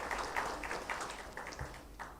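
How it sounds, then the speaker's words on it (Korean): A church congregation in Korea claps to welcome new members during Sunday worship, a faint scattered patter of hand claps in a quiet sanctuary. "우리 교우 여러분들 환영의 마음으로 박수해 주시기 바랍니다"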